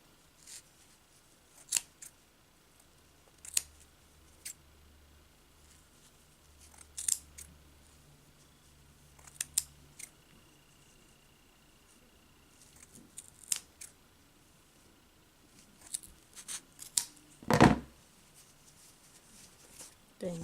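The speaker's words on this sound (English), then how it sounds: "you're gonna insert your scissors through the loops" Scissors snip in sharp, quiet bursts at irregular intervals, close up, with soft handling noise in between.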